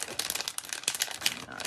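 A cellophane envelope crinkles close up in a short, dense burst of crackling and rustling as it is handled.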